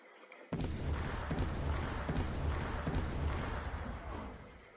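Cannon fire in the strategy game Cossacks: Art of War begins abruptly as a loud, dense barrage of booms and thuds, sustained for several seconds before easing slightly at the end, with faint speech underneath.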